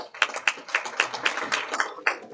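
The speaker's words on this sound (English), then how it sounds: "And clap it up for the sponsors." Scattered clapping from a small audience at a cybersecurity news presentation, a sparse run of individual hand claps with uneven rhythm, fairly close and modest in volume.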